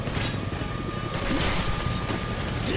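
A helicopter in the video game X-Men Origins: Wolverine gives off a dense, steady rotor roar with clanking, crashing debris mixed in, loud and continuous throughout.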